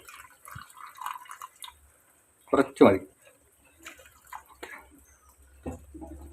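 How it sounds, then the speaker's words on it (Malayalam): Hot water poured into a simmering chicken curry while cooking: a short splashing pour in the middle, between quiet bursts of speech, with faint kitchen drips and clinks around it. "അപ്പം നമുക്ക് ലേശം മുമ്പ് എടുത്ത ചൂടുവെള്ളം തന്നെ കുറച്ച് കൊണ്ട് ആഡ് ചെയ്ത് കൊടുക്കുക."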